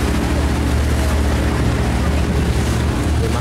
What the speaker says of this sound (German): Wir machen jetzt schön eine Katamaranfahrt.